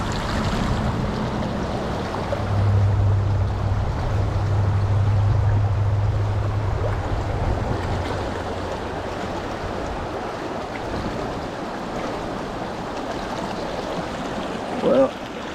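A flowing creek rushes and burbles steadily at moderate volume throughout, with a low rumbling swell early on and no talk over it.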